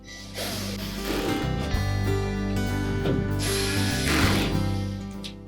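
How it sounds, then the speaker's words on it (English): Retaining screws going back into the console of a Whirlpool washer during a lid switch repair, with steady ratcheting screwdriver clicks and mechanical rattling running nearly the whole time at close range, no talking. "So simply reinstall those retaining screws."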